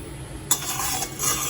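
A spatula stirs capsicum pulao in a kadai over low flame, scraping and rustling against the pan with a soft steady sizzle underneath.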